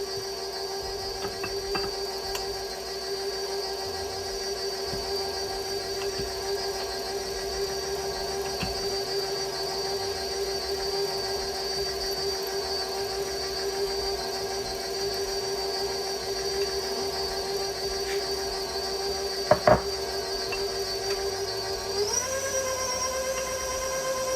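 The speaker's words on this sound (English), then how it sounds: "we're getting ready to put the last portion of the flour mixture in and mix it up" An electric mixer beats the last of the flour mixture into whipped cream pound cake batter, a steady motor whir with a constant tone that runs without a break and shifts pitch briefly near the end, with no talking.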